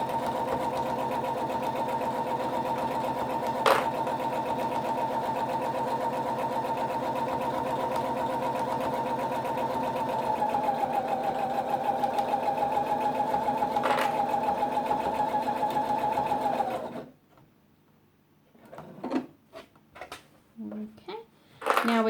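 A domestic sewing machine stitching a kitchen towel runs in a steady, close, even drone for about seventeen seconds, then stops, leaving a few handling clicks and brief bursts of sound.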